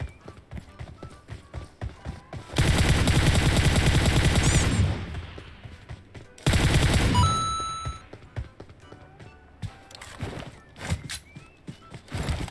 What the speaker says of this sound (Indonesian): Ini gua nembak sebelum ngeliat daripada gua kalah ya